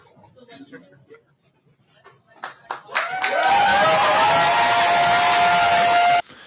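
Crowd clapping and cheering erupts after scattered claps and thumps, building into a loud sustained roar of applause that cuts off abruptly, with speech underneath.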